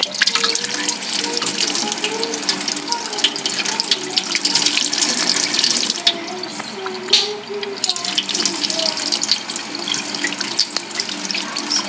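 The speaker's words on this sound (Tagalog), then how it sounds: "So, tignan natin yung ginawa natin na gripo." A newly installed faucet runs steadily with a strong splashing rush of water, continuous throughout with a brief dip partway, while a voice speaks faintly underneath.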